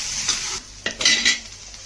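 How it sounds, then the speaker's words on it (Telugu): Spices and fresh curry leaves for wheat rava upma crackle and sizzle in hot oil in a pan, bright hiss rising in bursts as a spoon stirs and scrapes against the metal nearby. "పోపు బాగా వేగిందండి."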